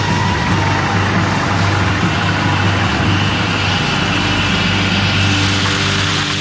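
A huge 4,700 hp motor on a tunnel boring machine drilling through granite under the Swiss Alps roars steadily, a loud, dense mechanical drone with a low hum and no voices.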